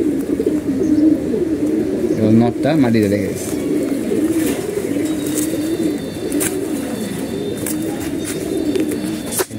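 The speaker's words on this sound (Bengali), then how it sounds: "একদম পুরো জাম কালারের কবুতর" Pigeons, among them a deep maroon-coloured bird, coo in low, rolling repeated calls close by, continuing under someone talking.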